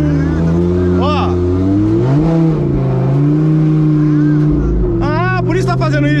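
A stationary Lamborghini with no working clutch hums at a steady, loud idle, then jumps in pitch with a brief rev; it sits close by, under excited talk between several men.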